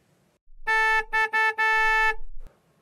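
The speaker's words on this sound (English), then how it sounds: "I honked my horn several times" A bicycle horn honks in four bursts, the first three short and the last one held longer, loud and close, with quiet before and after.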